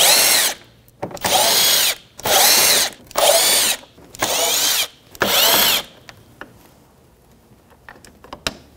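Power driver spinning out T20 Torx screws along the top of a 2007-2017 Jeep Patriot 2.4L L4 front end, six loud whirring bursts of about half a second each, then faint clicks and handling noises.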